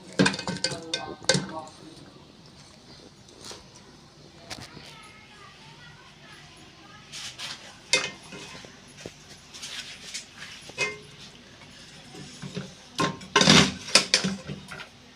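Dhuwan dehi smoky chicken is ladled out of a kadhai with scattered metallic clinks and scrapes of a serving spoon against the pan, coming in irregular bursts, louder toward the end, over a murmur of background voices.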